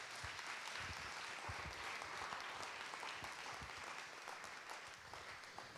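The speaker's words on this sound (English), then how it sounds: "So one more round of applause for Brian, if you would, please" An awards-night audience gives a sustained round of applause, dense even clapping throughout, fairly faint and distant in the room with no clear speech over it.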